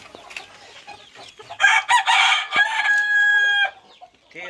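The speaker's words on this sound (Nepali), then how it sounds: "यो के जातको मै कुखुरा चिन्नै छोडिसकेँ मैले त" Chickens at a poultry farm cluck in short scattered bursts, then a rooster lets out a loud, drawn-out crow in the middle before the clucking resumes, close by with no talk.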